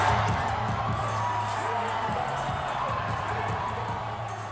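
Fans cheering in the packed Power and Light District in Kansas City during a Chiefs playoff game, a steady far-off crowd roar with whoops and a constant low hum throughout.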